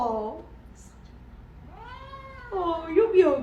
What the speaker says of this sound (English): Pretending to hurt my cat.